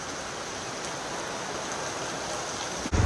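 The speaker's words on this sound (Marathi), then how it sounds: "सकाळपासून कंटिन्यू पाऊस लागतो हो आहे बघा जबरदस्त पाऊस आहे" Heavy rain pours down steadily, a dense continuous hiss that never lets up, with a brief bump of handling noise at the very end.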